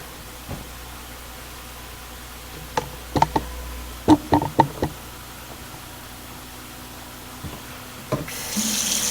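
Cold tap water runs quietly and steadily into a glass jar for rinsing sprouting seeds, with a few sharp knocks and clinks of glass partway through and a louder gush near the end.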